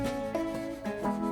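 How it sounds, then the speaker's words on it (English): Fine hand sanding of walnut desk accessories, a soft, close rubbing rasp in a few slow strokes, quiet and alone. "After some final touches with some fine sanding"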